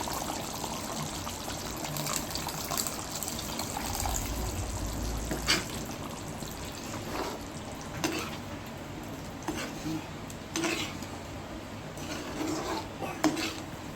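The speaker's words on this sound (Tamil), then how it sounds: "இப்போ புளி தண்ணியை ஊற்றிடலாம்" Tamarind water is poured into a pot of simmering dry fish gravy and stirred, with utensils clinking against metal over a continuous bubbling background.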